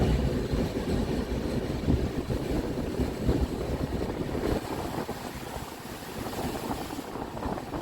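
The Darjeeling Mail (12343) crosses the Farakka Barrage at night, heard from on board as a steady loud rumble and rattle of the moving train with wind noise, no voices.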